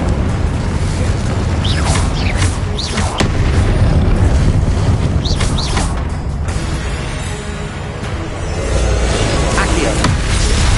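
Incendio fire spell cast in Hogwarts Legacy, a loud whooshing burst with booming, wind-like rushes and crackling flares over a constant roar of game noise.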